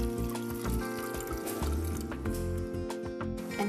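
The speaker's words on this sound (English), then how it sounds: "Now, I fill this jar with water." A glass jar filling with water from a tap, a close, steady gurgling pour with rising bubbly tones that run for a few seconds.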